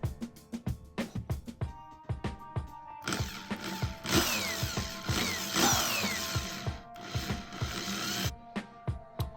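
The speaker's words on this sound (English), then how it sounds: "So I'll be drilling 4 holes to attach my 2 handles." Short mechanical clicks and taps, then a sustained whirring drill run for several seconds, drilling handle holes in a home decor craft piece, with clicks continuing afterward.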